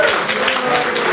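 A radio comedy studio audience claps steadily for about a second, a dense, fairly loud patter of hands with a faint voice trailing off at the start.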